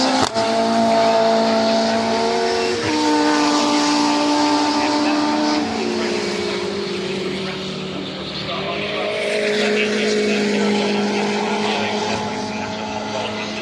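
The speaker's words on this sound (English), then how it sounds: "That car comes across the line. Sounds brilliant, that Mini" A Mini race car at Brands Hatch passes on track at a Mini festival, its engine a loud, sustained rasp with gear changes and shifting pitch as it goes by, with no talk over it.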